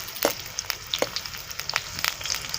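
Onion and chilli fry in ghee in a pan, giving a steady close sizzle dotted with sharp crackling pops and spits, with no one talking.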